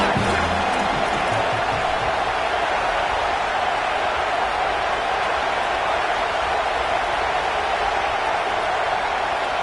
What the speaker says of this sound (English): Here comes this home crowd